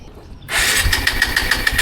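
Motorcycle engine starting with the choke on, silence broken by a sudden catch into a loud, rapidly pulsing idle that keeps running close by.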